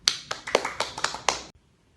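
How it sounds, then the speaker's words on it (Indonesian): Students in a classroom give a classmate a short round of applause: about seven or eight sharp, separate claps in quick succession that stop abruptly into near silence. "beri aplaus kepada Tasya"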